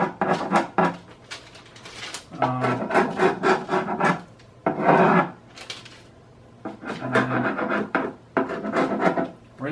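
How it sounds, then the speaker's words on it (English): A chisel scrapes sharp edges off freshly made molds in repeated rough rasping strokes, loud and close, coming in bursts with short pauses between, with no voices. "Chisel."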